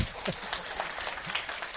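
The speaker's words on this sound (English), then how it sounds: "A big round of applause for my assistant." Quiet applause from a meditation talk audience, a soft continuous patter of clapping heard at a distance for a brief moment.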